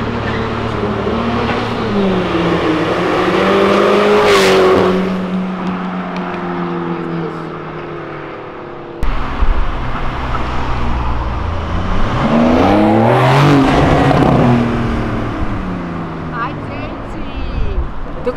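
A Ford Fiesta's engine roars and revs loudly on an avenue, rising and falling in pitch, with people talking over it.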